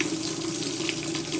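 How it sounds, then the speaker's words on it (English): Cold water rushes steadily into a Maytag washer being repaired for low flow, a constant close hiss with no voices. "Good water flow there."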